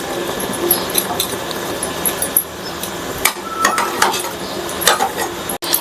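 Potatoes being stirred as they fry in a pan, a steady rustling scrape and faint sizzle with sharp clinks of the spoon against the metal, close and continuous for several seconds with no talk.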